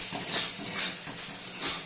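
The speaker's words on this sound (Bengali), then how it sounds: "তো তেলটা গরম হতেই আমি এর মধ্যে সয়াবিন দিয়ে দিলাম" Soybean chunks with salt and turmeric fry in hot oil, giving a steady hiss and sizzle with soft scraping as a spatula stirs them in the pan.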